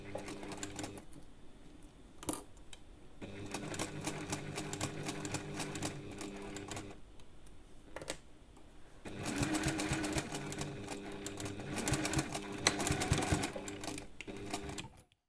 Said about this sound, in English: Start sewing, back stitch.